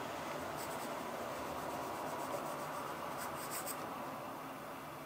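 Pencil strokes rubbing steadily across paper while drawing a stylized curved shape, a soft continuous scratchy texture with no talk.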